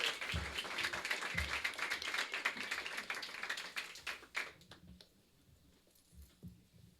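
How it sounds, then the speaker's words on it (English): An open-mic audience applauding in a full room, a dense burst of clapping that thins out to scattered claps and taps toward the end. "another round of applause"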